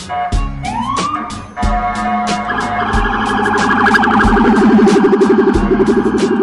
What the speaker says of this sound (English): it's a siren that you feel actually even more than you hear it